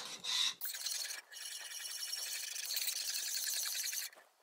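A whisk stirs yogurt culture into milk, a close, quiet, continuous scraping swish that runs for several seconds after a short opening burst, with brief pauses and no talking.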